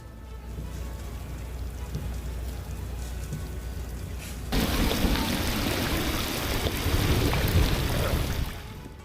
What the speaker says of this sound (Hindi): यहाँ कई दिनों से लगातार बारिश हो रही है